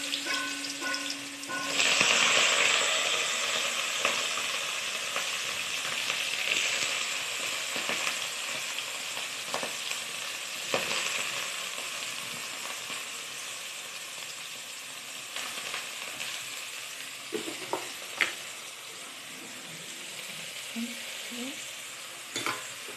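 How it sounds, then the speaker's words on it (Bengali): Potatoes and beans with turmeric fry in a pan for a Bengali shim chorchori, a steady close sizzle with occasional scraping stirs and light utensil taps throughout. "একটু হলুদ দিয়ে নাড়াচাড়া করছি"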